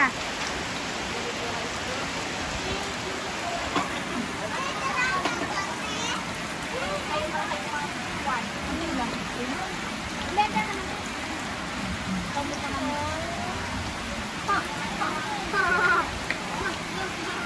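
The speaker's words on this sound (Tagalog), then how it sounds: "Kahit maulan dito sa amin." Steady rain pours down outside during a neighbourhood seventh birthday gathering in the Philippines, a dense even hiss with splashes throughout, under faint chatter and children's voices.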